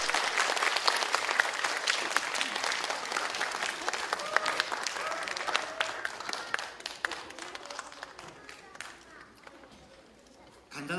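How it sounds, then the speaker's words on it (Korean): Enthusiastic applause from an audience at a children's composition recital, many hands clapping close and steady, then thinning out and tapering toward the end. "힘찬 박수로 2부의 첫 꼬마 작곡가들을 만나보겠습니다"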